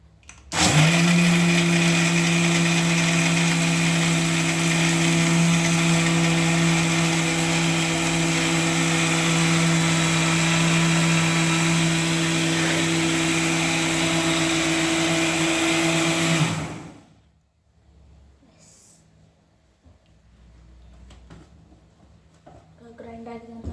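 A kitchen blender grinds mango milkshake with a loud, steady motorized whir for about sixteen seconds, then cuts off abruptly, leaving quiet room sound and a voice speaking afterward.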